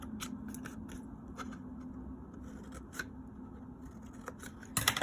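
Scissors cutting tabs on 110-pound cardstock for a box, a string of quiet, close snips and crisp paper crunches over a low hum, with no talk.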